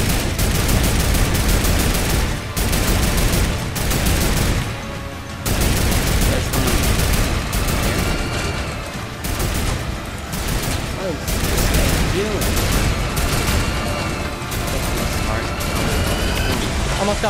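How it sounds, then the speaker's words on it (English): Rapid bursts of gunfire fill a supply-drop-only video game match, loud and nearly continuous with short gaps between volleys. Players talk over the shooting throughout. "I shot him a few times."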